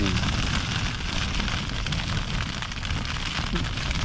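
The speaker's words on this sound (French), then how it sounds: "ma tente est en train de se faire plier en deux par le vent et la pluie" Steady heavy rain drumming and wind gusting against a tent's fabric in Arizona, a dense continuous roar with no voices.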